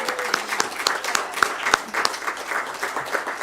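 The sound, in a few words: audience applause for the team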